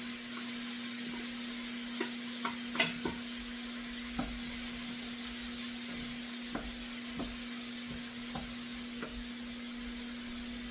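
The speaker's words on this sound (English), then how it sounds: "we got our butter that is melting in here really nicely" Butter melts and sizzles in a pot with a steady soft hiss, punctuated by scattered faint clicks and taps, with a low constant hum underneath.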